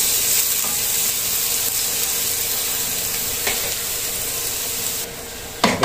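Cooking oil heating and sizzling in a frying pan, a steady close hiss that runs throughout, broken by a brief clink near the end.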